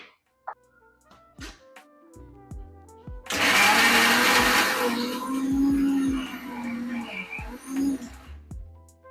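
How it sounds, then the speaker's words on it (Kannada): A mixer grinder churns peanuts into crunchy peanut butter: a few clinks and taps, then a loud, close grinding whir that wavers for about five seconds before stopping, followed by more light knocks. "ಉಳ್ದಿರೋ ಕಡಲೆ ಬೀಜ ಇವಾಗ ಹಾಕೊಂತ ಇದೀನಿ, ಇನ್ನೊಂದು ಸ್ವಲ್ಪ ಕ್ರಂಚಿ ಸಿಗ್ಲಿ ಅಂತ. ಸೊ ಈಗ ಮತ್ತೆ ರುಬ್ಬಬೇಕಾಗಿದೆ."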